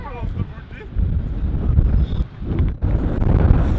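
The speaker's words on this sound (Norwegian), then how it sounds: "det blåser så jævla at det som blåser vann opp fra havet" Heavy wind roars and gusts against the microphone by the sea, strong enough to blow water up from the waves, rising and dipping, with a voice speaking faintly beneath the rush.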